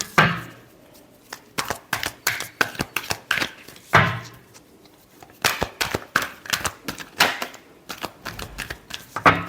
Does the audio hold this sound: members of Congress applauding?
no